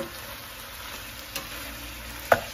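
Vegetable pieces for sambar frying in a pan, giving a low steady sizzle with a couple of brief utensil taps near the end.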